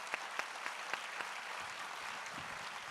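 Applause from a conference audience thanking a panel of speakers, a steady wash of clapping with a few sharper claps standing out, fairly distant and even throughout.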